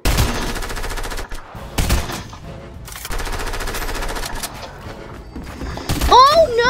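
Rapid bursts of gunfire ring out in the Fortnite video game, loud automatic volleys with a brief pause, ending with a sweeping electronic effect; a voice talks over parts of the action.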